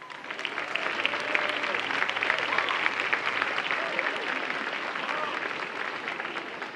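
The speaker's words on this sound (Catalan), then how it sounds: "Un aplaudiment, sisplau." A festival crowd in a town square applauds an arriving mayor, continuous steady clapping with faint murmurs and voices beneath.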